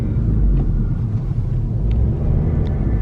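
Manual-transmission car engine running steadily from inside the cabin as the driver works the clutch and shifts down to second gear, a low continuous rumble with faint clicks, no talking.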